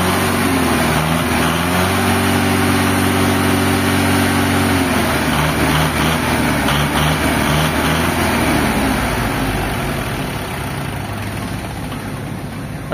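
A Shibaura SD3000 tractor engine idles steadily up close, a loud, even low rumble with a deep throaty note that holds throughout and eases slightly toward the end.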